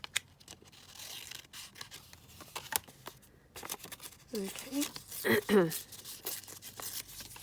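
Material being cut down for a handmade flippy pad, with scattered snips and tearing rustles and a louder burst of crinkling toward the end, alongside a brief spoken word.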